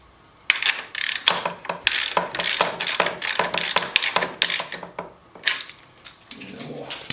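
A ratchet wrench tightens bolts on the handlebar of a 2016 Harley-Davidson Tri Glide, giving rapid bursts of sharp clicking strokes with brief pauses in between, close and clear.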